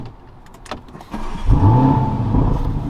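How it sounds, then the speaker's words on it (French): A Lamborghini engine cranks and catches, then settles into a deep, rumbling idle close by. "Maintenant, je vais vous démarrer la voiture."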